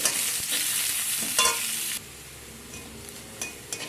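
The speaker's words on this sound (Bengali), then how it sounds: "সবকে আবারও একসাথে ভাজা করে নেবো" Onions and garlic fry loudly in a pan with a bright, hissing sizzle and brief bursts of stirring, easing to a quieter crackle after the first couple of seconds.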